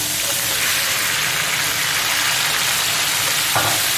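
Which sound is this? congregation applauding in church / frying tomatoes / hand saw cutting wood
frying tomatoes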